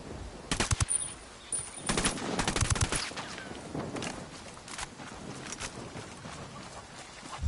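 Submachine gun fire in the tactical shooter Ghost Recon, with bursts of rapid automatic shots around the first three seconds, then sparser scattered shots in a busy firefight.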